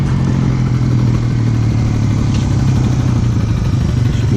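Kawasaki Z125 Pro motorcycle engine running loud and close, with a steady low idling rumble and clattery mechanical texture while riders do stunts nearby; no talking.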